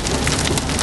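Hail pelts a car in a thunderstorm's hail core during a storm chase, a loud, dense, unbroken drumming and hiss that fills the whole moment with no voices.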